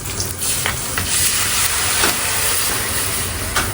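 Loud, continuous sizzling and hissing as water is poured into hot oil tempering with fenugreek and whole red chillies, with occasional crackles and spits, close by.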